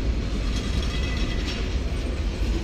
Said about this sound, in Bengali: আপনারা দেখতে পাচ্ছেন কুড়িগ্রাম এক্সপ্রেস ট্রেন